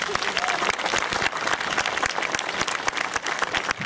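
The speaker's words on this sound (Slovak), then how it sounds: "Poprosím potlesk." An audience at an outdoor unveiling ceremony for a walk of fame in Zvolen bursts into loud, dense applause, many hands clapping close by in a sustained rapid patter, with voices murmuring beneath.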